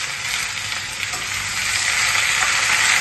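Potatoes sizzle and fry in hot oil in a pan, a steady, close, dense crackle that builds slightly over the few seconds, with no talking.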